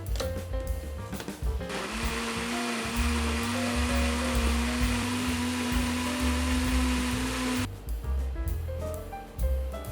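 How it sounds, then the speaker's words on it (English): A blender whirs loudly and steadily through strawberries for several seconds, then its pitch shifts and it sputters as it winds down, with clattering before and after. "My blender is too small, so I'll do this in 2 batches."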